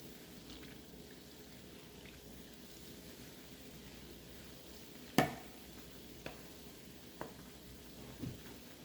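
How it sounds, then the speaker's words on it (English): A flour, egg and milk batter cooks in a pan as it is stirred, giving a soft, steady sizzle broken by a few sharp utensil clicks against the pan. "I keep stirring, and then push it down a little bit."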